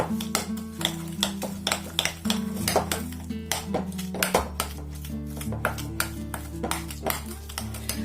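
Sugar is creamed with butter in a bowl, a utensil clinking and scraping against the sides in quick, irregular taps that run on close by with no talk.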